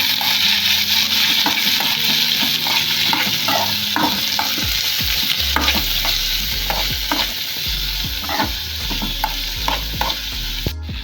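Green chillies, onion and tomato stir-fry in a pan for a Kerala-style anchovy and dried mango peera, with a constant close sizzle and repeated scraping, clattering stirs throughout, and no voices.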